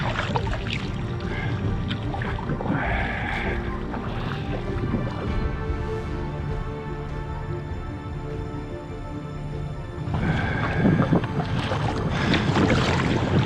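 Wind and waves buffet a lone paddler in a canoe on a remote Canadian wilderness lake, a steady rushing roar with splashing paddle strokes, growing louder and choppier near the end, no speech.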